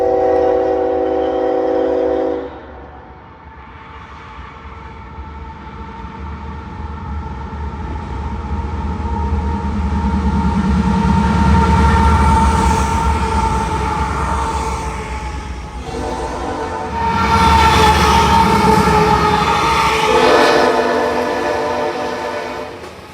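A Union Pacific mixed freight train passes, opening with a loud multi-tone horn blast, then a long swelling rumble and clatter of wagons before the horn sounds again nearby.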